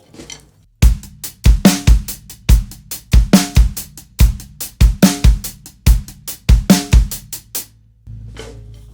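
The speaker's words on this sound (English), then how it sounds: "This would be a fairly common 16th note groove." A drum kit plays a busy groove of kick, snare and quick hi-hat strokes in a steady sixteenth-note rhythm, then stops with a short ringing tail.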